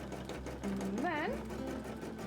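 A sewing machine stitching a cosplay costume contest entry runs steadily throughout, with a person speaking and making a sliding vocal sound over the motor's whir.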